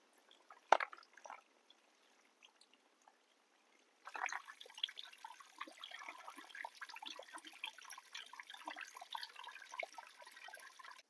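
Water drains off freshly washed cashew nuts, a faint, steady trickle and patter that starts after a brief knock and runs on quietly to the end.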